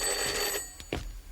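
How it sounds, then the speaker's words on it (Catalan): A telephone ringing at night in a Catalan TV comedy scene, a bright electronic ring for about half a second followed by a couple of quieter knocks and clicks, with no talk. "Telèfon!"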